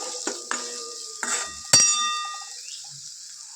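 Chutney masala roasting and being stirred in a pan, with a spoon clinking against the metal several times over a steady soft sizzle; no talk.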